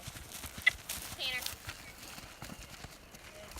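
A horse canters on a lunge line with rhythmic hoofbeats heard fairly faintly at a distance, mixed with outdoor noise, a brief sharp knock and a low whinny-like sound.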